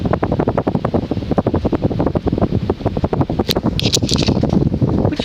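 A vintage Encon Centurion 52-inch four-blade ceiling fan runs on high speed, giving a steady whooshing drone with a rapid rhythmic pulse from the blades passing, loud and close, with a few faint higher clicks near the end.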